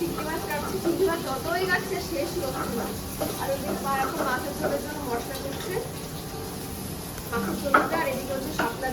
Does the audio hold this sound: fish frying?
yes